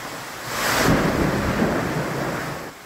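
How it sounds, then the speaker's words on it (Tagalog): Heavy rain hisses steadily in Metro Manila while a deep roll of thunder swells and rumbles through the middle, close and loud, with no voices. "Nagdulot ng baha at traffic ang malakas na buhos ng ulan sa Metro Manila"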